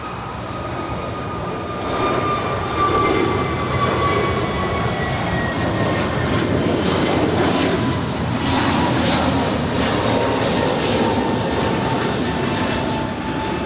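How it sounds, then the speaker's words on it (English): An Alaska Airlines Airbus A321neo takes off from LAX for Seattle-Tacoma. Its engines give a loud, sustained roar with whining tones that slowly fall in pitch, and no one speaks. "This is Alaska Airlines A81 departing to Seattle Tacoma. It's an A321 Neo."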